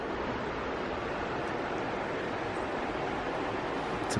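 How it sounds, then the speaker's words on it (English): A creek runs beneath a 1930 covered bridge in Cottage Grove, Oregon, making a steady, close, broadband rush of flowing water with no voices. "It's a pretty creek."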